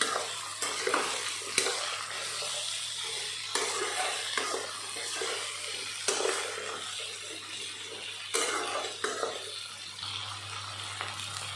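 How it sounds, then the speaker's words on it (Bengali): Taro stems sizzle steadily in a frying pan, with repeated scraping and clattering stirring strokes at close range throughout. "এটাকে এখন ভালো করে ফ্রাই করতে হবে।"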